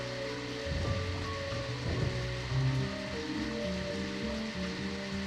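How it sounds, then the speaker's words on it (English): Steady rain falls in the Deadly Premonition video game, a continuous wash of drops with low rumbling game ambience beneath, evenly loud throughout with no talking. "It's starting to rain."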